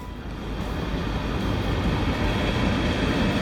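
Freight train rolling past close beside a workshop, a continuous loud low rumble and rattle of wagons with no break for the whole stretch.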